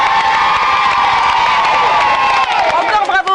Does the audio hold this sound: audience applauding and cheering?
yes